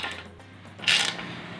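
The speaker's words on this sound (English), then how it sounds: "Let's rotate the crank again and do the other one." An engine crankshaft on a freshly assembled long block is turned by hand, giving a short close mechanical ratcheting click and scrape with one brighter burst near the middle.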